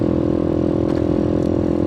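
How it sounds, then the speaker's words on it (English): Rebuilt 2020 Boom Vader motorcycle with a 141 big bore kit engine, running steadily and loudly close by with a buzzy, even drone and no talking. "And now with the 141, I got the riding lawnmower sound."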